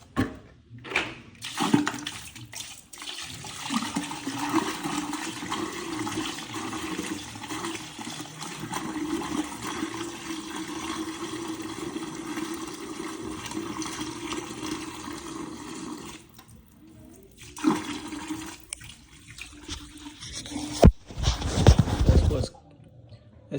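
Sediment-laden water poured out of a container drained from a hot water tank, a continuous splashing, gurgling pour broken by short pauses and a louder final gush, with someone talking at times.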